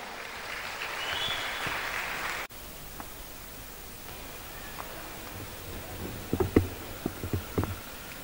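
Applause from an audience at a large youth gathering of millennials and Gen Z in West Java rolls on as a broad wash of clapping, then cuts off sharply, followed by quieter room noise with scattered knocks and handling sounds.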